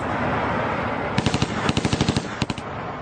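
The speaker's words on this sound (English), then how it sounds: "Cole sprays the street with gunfire" Machine gun fire sprayed along a street from the backseat of a moving car, rapid close bursts of about a dozen loud shots and then a short second burst, over a dense rumbling background.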